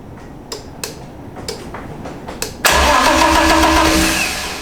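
BMW E30 fitted with an M52B28 engine swap, a few faint clicks followed by a loud, steady starter cranking that churns on without the engine catching, then eases off at the end.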